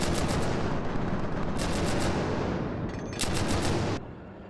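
Dense automatic gunfire from the Killzone 3 multiplayer shooter, played with a PlayStation Move controller, sounds as a loud, continuous roar of rapid shots with brief louder bursts before it cuts off near the end.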